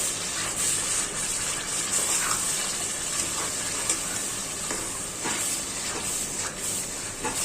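Onion and spices frying in a pan for Old Dhaka-style biryani made with mung dal, giving a steady sizzle and hiss with occasional stirring scrapes, close and alone.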